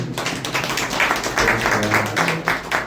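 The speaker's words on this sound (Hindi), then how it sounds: "चलिए एक अच्छा ताली बजाएं प्रभु के लिए।" A church congregation clapping in praise, a steady loud patter of many hands close by with a few faint voices mixed in.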